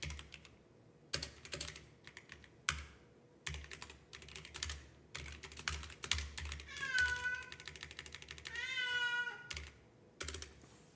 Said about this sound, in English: I've got a cat that needs talking to.